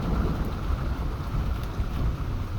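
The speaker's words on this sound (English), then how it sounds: "whenever it thunders" Steady heavy rain pours during a thunderstorm in Michigan's Upper Peninsula, with low rolling thunder rumbling continuously beneath the dense, even hiss of rainfall.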